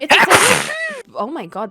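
A single loud, close sneeze bursts out over a person talking during a casual gaming chat, followed by more speech afterward.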